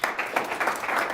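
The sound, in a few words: audience clapping for a speaker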